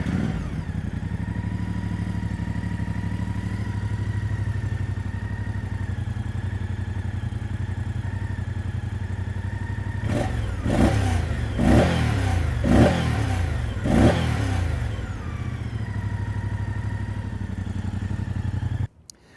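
A 2024 Moto Guzzi Stelvio motorcycle engine idles with a steady, close rumble, then gets a quick series of sharp throttle blips near the end before settling back to idle.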